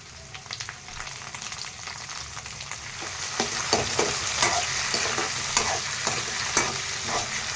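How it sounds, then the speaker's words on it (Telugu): Onions and curry leaves fry in a pan with a bright, constant sizzle, and repeated scraping and clinking of a stirring spoon grows busier toward the end. Nobody speaks. "రెండు రెబ్బల కరివేపాకు ఆనియన్స్ దూరగా వేయించుకోవాలి"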